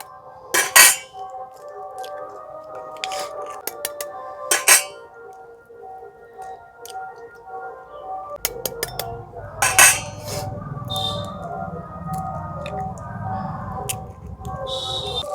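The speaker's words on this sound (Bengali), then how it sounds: "এখানে 3টে ডিম ফাটিয়ে নেব।" Three eggs cracked into a bowl holding ground black pepper, chopped chilli, onion and tomato for egg rolls, giving several sharp, close clinks and taps of shell on the rim with brief pauses between them.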